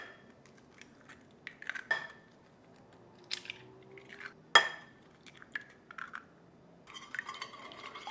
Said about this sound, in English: we're gonna go ahead and crack in our 3 eggs.